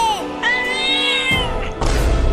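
A cat meows in a long drawn-out, clear cry close by, followed by a shorter meow, and then a thud and a burst of noise near the end.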